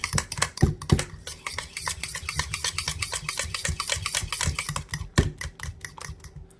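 Keto batter being mixed by hand in a bowl, a fast series of close, sharp clicking and scraping strokes that run steadily throughout, with no voices.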